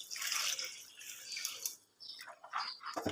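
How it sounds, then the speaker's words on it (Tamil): Water splashes and gurgles into a rinsed mixer-grinder jar used for grinding masala, with uneven pouring and sloshing that stops briefly, then resumes before ending in a knock. "மசாலா அரைச்ச ஜாரை கழுவி தண்ணி சேர்த்துக்கோங்க."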